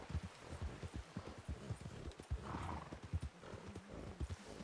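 Horse in the Red Dead Redemption 2 video game, with repeated clip-clop hoof steps and a neigh partway through, steady and close throughout.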